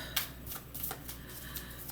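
Tarot cards are shuffled and drawn, giving soft, close papery flicks and slaps at an irregular pace over a low steady hum.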